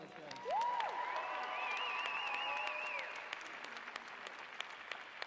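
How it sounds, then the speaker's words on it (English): Audience at the Balancing Our Minds 2014 event applauding presenters Sarah, Lara and Steve: sustained clapping with a sharp whoop early and cheering tones, fading to scattered claps after about three seconds. "How about another round of applause for those guys?"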